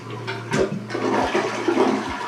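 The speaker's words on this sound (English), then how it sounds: "Okay, now try flushing." Newly installed toilet in a remodeled bathroom flushing, a close, loud rushing swirl of water that runs steadily with a few thumps, no voices over it.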